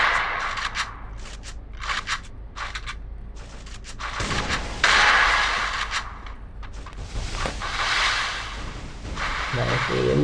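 Shotgun blasts in a 1v1 video game match crack out as sharp, loud bursts over a dense, continuous layer of game noise, with a brief voice heard in the mix.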